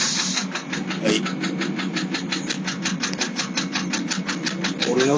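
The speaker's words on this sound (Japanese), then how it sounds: "俺の996も同じ音するなと思った人はエンジン壊れてますよ" Porsche 996 late-model 911 Carrera 4 engine with internal engine trouble runs steadily, a fast, even mechanical ticking and knocking pulsing over a constant hum, close by, with a voice talking over it.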